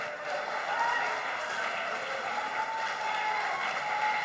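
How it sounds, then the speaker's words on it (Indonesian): A crowd of junior high school students claps at a school seminar on reproductive health, a steady, moderately loud wash of applause sustained throughout with no talk over it. "mari beri tepuk tangan yang meriah kepada semua yang telah hadir hari ini"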